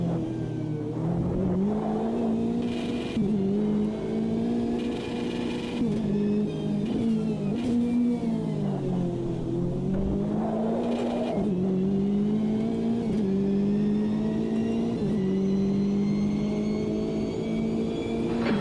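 A race car in the Automobilista 2 sim racing game sustains a loud engine drone that rises and falls through gear changes and throttle shifts, steady and close, with no one speaking.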